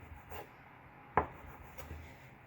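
A knife cuts through sheets of homemade egg pasta as it slices them into thin noodles: a few quiet, isolated taps of the blade on the board against a soft, near-silent background.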